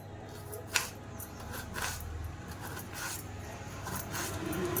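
Tender kartule, spiny gourd, is sliced with a knife, producing a few soft, close crisp cuts with light scraping between them in a quiet kitchen.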